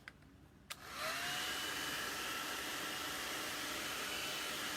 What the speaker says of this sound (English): I'm gonna get the hairdryer out so that this white will dry enough